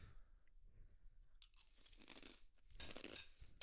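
Crunching on fruity cereal, a steady run of dry, crackly bites and chews close to the mic, with louder bursts toward the end and no talk.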